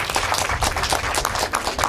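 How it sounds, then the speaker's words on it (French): Clapping from the audience at a Défi Handicap des Sources event in Val-des-Sources, a short, close burst of dense hand claps at full loudness that runs without pause. "On peut applaudir."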